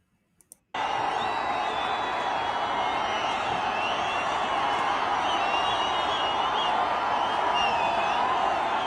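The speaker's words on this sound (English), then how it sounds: "This is the crowd yesterday that was cheering for the release of our leader Mazi Nnamdi Kanu" A large protest crowd calling for the release of Mazi Nnamdi Kanu, a dense, loud, continuous roar of cheering and shouting that bursts in abruptly after a few faint clicks and holds steady.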